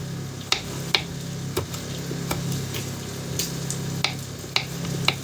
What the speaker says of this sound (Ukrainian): Так, м'яско наше шкварчить.